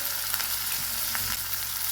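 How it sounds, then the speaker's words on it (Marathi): Finely chopped onion sautés in a pan with a steady, soft sizzle that stays close and even throughout. "कांद्याला सुद्धा 2 मिनिटं परतून घ्यायचं आहे."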